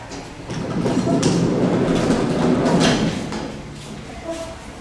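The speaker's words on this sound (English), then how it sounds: "It's an Otis hydraulic elevator from the 1960s." A vintage 1960s Otis hydraulic elevator runs with a steady low rumbling hum and mechanical rattle, loud and continuous, with a few faint clunks and a brief tone near the end.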